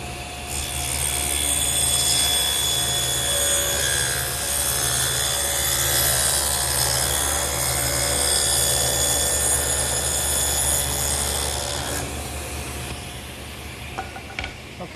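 A power tool runs steadily for about twelve seconds, whining loudly with a continuous rough cutting buzz as it routes a groove along wood pieces for a blanket chest, then winds down.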